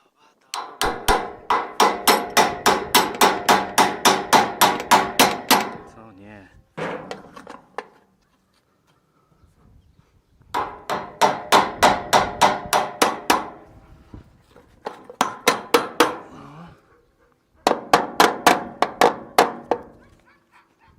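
Rapid metal hammer strikes ring out as bearings are hammered into place on a New Holland combine harvester, several long bursts of evenly spaced blows separated by short pauses, loud and close.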